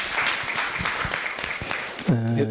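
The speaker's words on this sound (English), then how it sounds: "Let's give one final clap" Audience clapping at the close of a careers-in-modeling talk, a steady patter of many hands for about two seconds before a voice breaks in near the end.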